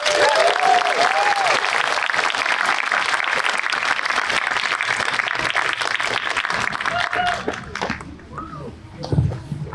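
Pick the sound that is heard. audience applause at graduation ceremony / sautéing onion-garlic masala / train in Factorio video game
audience applause at graduation ceremony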